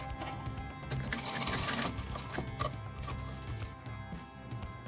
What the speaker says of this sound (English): Now we do permanent sewing on it so that the bulbs do not get separated from each other